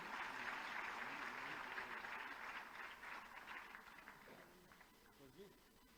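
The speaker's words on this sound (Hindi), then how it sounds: "उनके लिए जोरदार तालियां।" Applause from an audience at a public event in Lucknow, a broad crowd of clapping that is loud at first, then gradually fades as voices emerge near the end.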